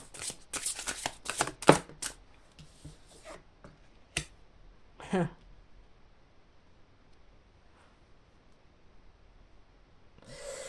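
Tarot cards being shuffled by hand, a quick burst of riffling and flicking strokes up close, then a few isolated slaps and rustles separated by quiet pauses, with no one speaking.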